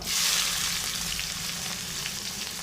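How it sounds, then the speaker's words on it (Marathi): Sliced onion frying in hot oil with curry leaves, a loud, dense, steady sizzle heard up close with no talking. "कांदा तर छानपैकी भाजून घ्यायचा या तेलामध्ये"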